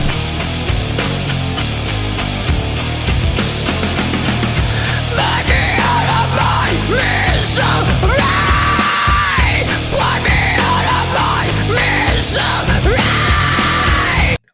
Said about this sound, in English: let's do the heavy part, the scream in the beginning of the breakdown